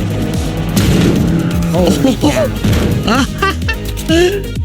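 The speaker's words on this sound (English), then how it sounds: "When you hit someone with a vehicle in Season Remix, it is completely broken. It sends them so far." In Fortnite Remix, a car rams into a player amid loud engine roar, tire squeal and impact noises, with excited voices talking over the action.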